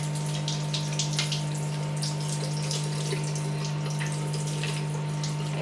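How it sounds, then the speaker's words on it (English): A kitchen or bathroom tap runs steadily while makeup brushes are rinsed under it, with a constant loud gush of water and a low hum underneath, and no talking. "Get the tap back on."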